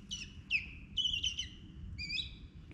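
A bird at Goose Lake gives several clear, high chirping whistles in quick phrases over a low outdoor murmur.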